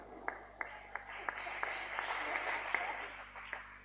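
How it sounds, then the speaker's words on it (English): Sparse, scattered hand claps from a small audience at a hackathon closing event, a handful of distinct claps building into light applause, fairly faint and distant. "can we clap for them?"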